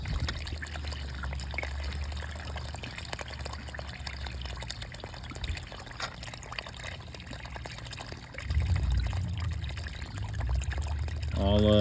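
Water pours and trickles steadily out of garden pond equipment being rinsed, a constant splashing stream that swells louder near the end.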